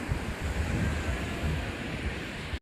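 Ocean surf rolling onto the beach at Arambol, Goa, in late afternoon, a steady broad wash of waves with wind buffeting the microphone, continuous and fairly close, ending in a brief cut.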